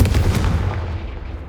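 A Confringo blasting spell explodes in the Hogwarts Legacy video game as a short, loud, booming burst with a rumbling decay.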